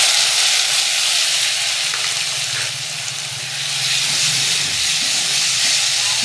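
Ginger, garlic and green chilli paste sizzles with reddened onions in a hot pan, a steady broad hiss of frying that dips briefly midway and then returns at full strength, with no talking.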